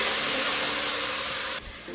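Holy Trinity vegetables of onion, celery and bell pepper dumped into a hot, dark roux for chicken and sausage gumbo, giving a loud, close, steady hiss and sizzle that drops off sharply near the end.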